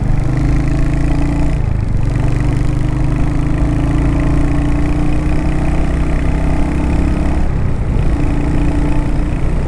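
A Royal Enfield Hunter 350 motorcycle engine cruising at about 80 km/h: a loud, steady, low droning thrum with constant wind and road rush, and two brief dips in tone along the way.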